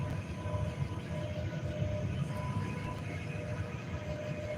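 Train passing on nearby tracks, a continuous low rumble and rolling clatter with a faint tonal whine, steady and moderately distant throughout, no talking.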